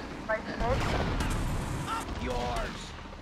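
Weapon fire from the video game GTA Vice City, a few booming shots over a rumbling game backdrop, with someone talking over them.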